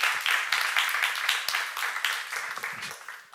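A church congregation claps together at a seminar, a fairly loud burst of many hands with regular rhythmic beats that gradually tapers off, with no speech over it.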